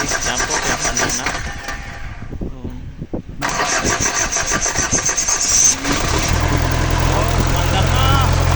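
A boat engine mounted over the hull cranks and catches, settling into a loud steady idle after a brief failed attempt; people talk over it.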